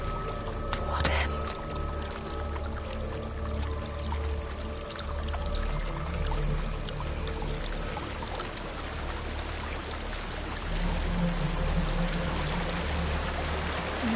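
Steady flowing water in a dark fantasy game world, a continuous wash and trickle running under a layered ambient soundscape, with a voice speaking over it.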